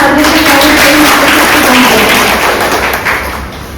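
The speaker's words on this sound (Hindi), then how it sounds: "एक बार जोरदार तालियों से" An audience claps and applauds loudly at an NSS programme in a college assembly hall, a dense continuous wash of claps that fades toward the end.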